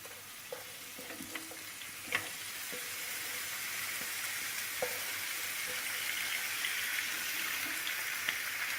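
Steady sizzling of chopped döner meat frying in a hot pan, with occasional clinks and stirring sounds, continuous and close.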